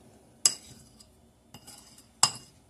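A utensil clinks against a bowl three times while egg yolk is mixed with warm milk, each sharp tap followed by faint scraping, close and otherwise quiet.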